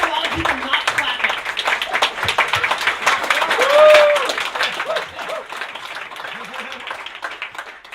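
A live studio audience claps for several seconds, a dense crackle of hands rising and then thinning out, with people talking over it throughout.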